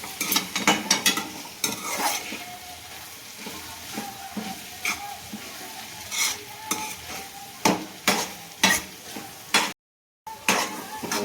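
Onions being stirred and roasted in a pan for a Gujarati green turmeric curry: a steady run of scraping spatula strokes over a soft sizzle, close up and moderately quiet, with a brief drop-out near the end.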